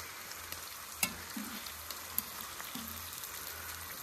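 Burgers and onions cook on a barbecue grill, making a soft, steady sizzle flecked with small pops and a couple of sharper crackles, heard alone at a moderate distance.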